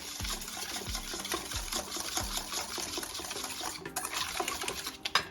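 A small whisk stirs a burger mixture in a bowl. It gives a close, busy metallic clatter and swish with soft repeated thumps, and no one speaks.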